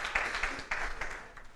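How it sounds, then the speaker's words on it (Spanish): Applause from an audience at a talk on good agricultural practices in fruit and vegetable growing, with dense, fairly steady clapping across a short burst and no speech over it. "Acá está el dato tuyo, así que un aplauso porque le invocó."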